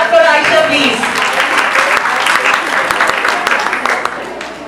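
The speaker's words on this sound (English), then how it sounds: "Clap for Aisha, please." Parents and children at a grade 3 graduation applaud in a steady, moderately loud round of clapping that gradually thins, with a voice briefly heard at the start.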